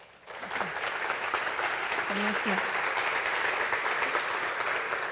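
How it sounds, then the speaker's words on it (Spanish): A lecture audience gives steady applause to the speaker after her introduction at a conference on the Mexican national coat of arms, clapping continuously while a voice briefly speaks over it. "Reciba un cordial aplauso, maestra."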